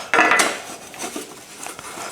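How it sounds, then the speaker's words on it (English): A thread tap with cutting oil being run through the bottom bracket shell of a vintage Marin bicycle frame, giving a few metallic clinks and scraping ticks, a louder clatter at the start, then lighter taps. "I think I'll quickly just run a tap through this, clean it out."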